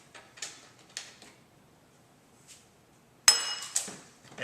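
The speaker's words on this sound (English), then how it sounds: "I'm just going to stir them up." Three dry spices being stirred together in a bowl for a brisket rub: scattered light clinks and scrapes, quiet at first, then a sharp louder clink followed by a few more taps.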